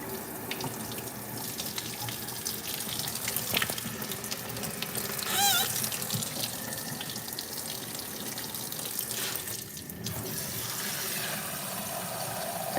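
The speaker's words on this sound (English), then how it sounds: "We're gonna fill it up with water." Tap water runs steadily into an ultrasonic cleaner, a close, continuous splashing stream that fills the tank, with a few faint clinks and a brief meow-like sound partway through.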